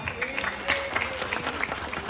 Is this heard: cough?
no